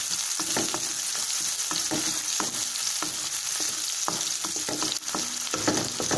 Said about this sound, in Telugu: ఒక 1 మినిట్ సేపు ఆనియన్స్ని మనం ఫ్రై చేసుకుందాం